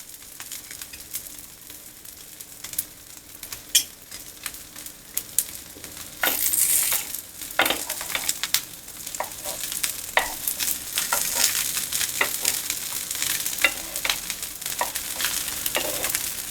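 A steady, hissing sizzle of sweet corn patties shallow frying in oil in a pan, broken by sharp clicks and scrapes of a utensil against the pan.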